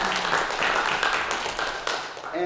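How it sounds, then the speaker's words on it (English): A crowd at an evening gathering applauds a student athlete who placed third in shot put at a school track meet, a dense, steady wash of clapping that holds for a couple of seconds. "So give him a round of applause"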